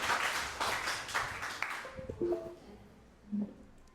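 A classroom audience claps in a dense, moderately loud burst lasting about two seconds, then it tapers off into a few scattered claps and light background noise.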